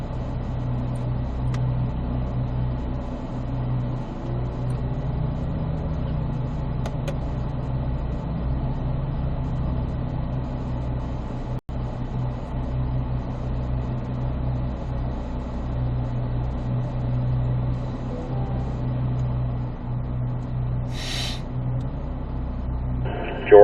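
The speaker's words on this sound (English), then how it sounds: "when the car at the start line leaves the start line, the next car may pull up to the start line" A car at an autocross competition runs steadily at the start line, a continuous low engine drone with a deep rumble holding evenly for a long stretch, fairly loud and close, with a brief sharp knock midway.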